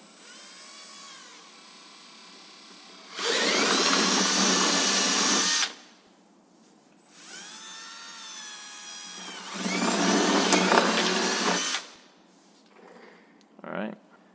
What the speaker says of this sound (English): it's time to use this drill and make them bigger